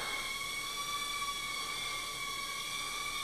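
An Air Hogs Hyper Stunt Drone runs its small motors at full throttle, making a steady, high, whining buzz with several tonal layers that holds evenly and close throughout.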